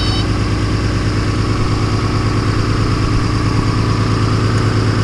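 Skid steer loader engine idling steadily throughout, a loud, continuous low rumble with constant vibration and no break in level.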